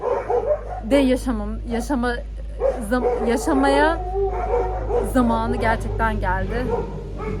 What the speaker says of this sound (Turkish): köpekler havlıyordu